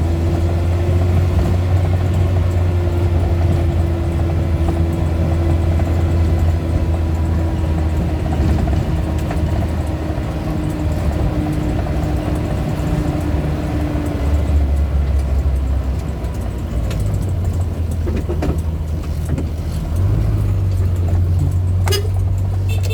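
A Suzuki Carry's engine drones steadily while driving in third gear, a low continuous hum close by with slight shifts in pitch and some road noise.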